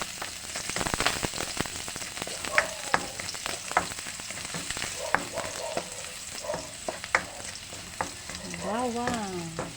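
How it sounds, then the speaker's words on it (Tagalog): Garlic fries in hot oil in a pan, with a continuous crackling sizzle broken by frequent clicks and scrapes of stirring, and a voice speaking briefly near the end. "Lagyan na po natin ng mantika. Lagyan na po natin ang bawang."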